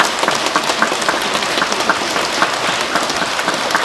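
A congregation at a Catholic healing retreat for the World Day of the Sick offers loud, thick thanksgiving applause, an unbroken hiss-like wash of many hands clapping at once, close and steady throughout with no voices.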